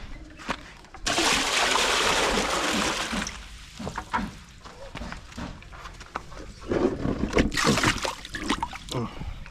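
Water poured out near a rice-paddy embankment, a loud rushing splash for about two seconds, then scattered splashes and handling noises, with a second pouring burst near the end as people talk.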